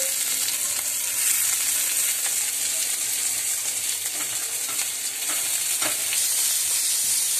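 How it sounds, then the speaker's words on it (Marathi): Onion sautéing in hot oil in a pan, a continuous close sizzle with intermittent scraping stirs and small spatters, with no talking over it. "कांदा टाकते। हाही आपल्याला व्यवस्थित परतायचं आहे।"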